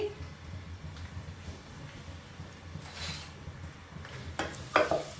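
Chopped onions softening in a pan while being stirred, giving a low steady sizzle with occasional scraping and a brief utensil clatter near the end.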